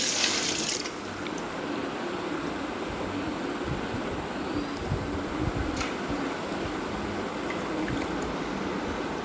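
Continuous running water splashes steadily into a basin as gooseberries are washed, a dense even rush with no pauses or voices.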